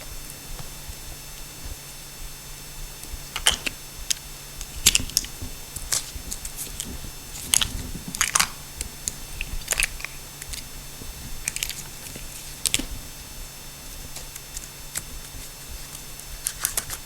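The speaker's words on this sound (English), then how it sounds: "Take a utility knife, just cut the insulation on the outside and take it apart and separate it," A utility knife scores and slits the outer insulation of electrical cable, producing sparse close clicks, snaps and short scraping bursts over a quiet room, with no talking.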